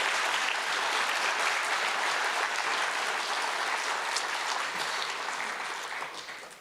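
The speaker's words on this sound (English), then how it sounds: "So I'd like you to give another round of applause for our two student speakers." Dense, sustained applause from a graduation audience for two student speakers, a thick continuous roar of clapping that fades away near the end.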